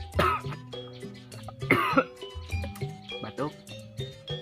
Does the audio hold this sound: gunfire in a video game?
no